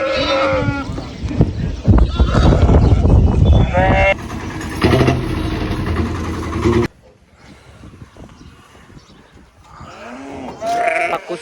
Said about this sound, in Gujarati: અને મિત્રો બકરા આવી ગયા છે